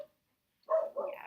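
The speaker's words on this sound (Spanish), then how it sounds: "Voy a tener que parar un poco porque mi perro está haciendo ruido." A dog barking indoors, two short, faint barks in quick succession after a brief silence, heard alone without talk.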